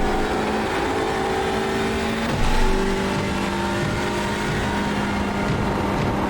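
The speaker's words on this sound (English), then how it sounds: "Oh, you can hear that thumping sound." A Hyundai Elantra TCR race car on track with a loose part hanging off it, producing a steady engine drone with rhythmic thumping beneath, heard from onboard at a constant level without voices.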